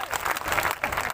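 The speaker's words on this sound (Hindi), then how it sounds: "ऐसी तालियां आपने बिहार का सम्मान में बजा दिया" Dense, steady applause from a large audience at a Hindi-Urdu poetry recital, clapping loudly and continuously throughout with a few voices faintly mixed in.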